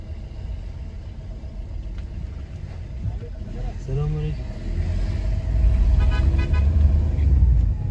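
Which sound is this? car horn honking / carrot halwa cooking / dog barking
car horn honking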